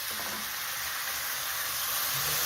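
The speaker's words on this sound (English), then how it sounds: "you start to hear it sizzling" Stir fry sizzling in a pan after a splash of water is added, a steady, close, hissing frying sound with no talk.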